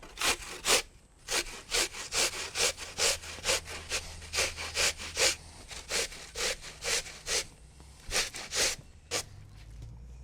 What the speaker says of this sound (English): So we grate the apple, green apple because it's nice and tart, straight into